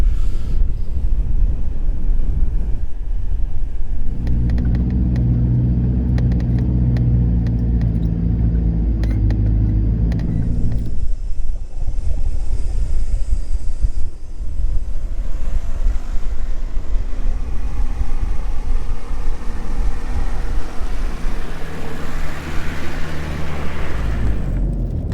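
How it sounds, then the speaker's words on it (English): Gale-force wind buffeting a microphone fitted with a windsock on a hilltop during a 4WD trip in Cape York, a loud continuous low roar with surging gusts and no voices. "Hopefully the wind noise isn't too bad. It's blowing a gale up here."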